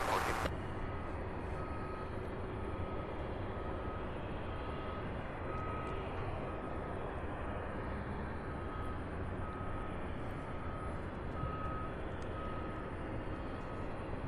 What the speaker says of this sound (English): It's a 747 coming in from that just got here from San Juan, taking her place right there next to the other three.